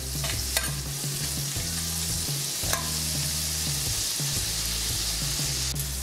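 Butter and pancetta frying in a pan over low heat, a continuous close sizzle with spoon scrapes and stirring knocks running throughout, no one speaking.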